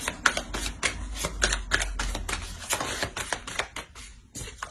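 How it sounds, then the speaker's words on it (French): Tarot cards being drawn and laid down, giving a rapid run of close, crisp card slaps and flicks in an uneven rhythm, with no voice. "Je vais rajouter une carte sur le 9 d'épée."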